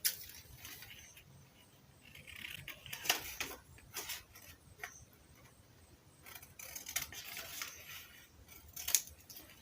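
Scissors snip through fabric being cut out for a pinafore trouser, a quiet run of close, irregular crisp cuts and ticks over low room noise.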